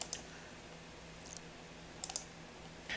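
Computer mouse clicks while navigating tax software, a few faint short clicks in pairs and clusters over a quiet hiss, with no talking.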